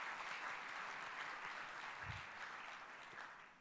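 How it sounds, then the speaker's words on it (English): Applause from a congress audience for Madam President, soft and distant, a continuous patter of clapping that fades slightly toward the end. "I want a big applause for her efforts"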